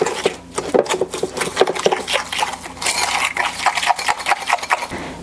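Melted butter and a tablespoon of cinnamon stirred together in a bowl for Amish sticky buns, giving a steady run of close scraping and clinking from the spoon with no talk.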